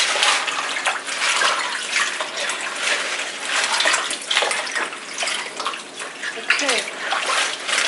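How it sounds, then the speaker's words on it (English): Collard greens are swished and agitated in a basin of water to wash off dirt, a continuous close sloshing and rushing of water with splashy surges throughout. "agitate the greens, agitate the water so it can get all that dirt off"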